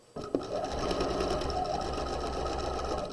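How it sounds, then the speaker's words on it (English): A sewing machine runs steadily, stitching the curved crotch seam of homemade pajama pants in the round, with a brief start-up then a continuous close motor whir and needle chatter. "now I'm sewing back up the front"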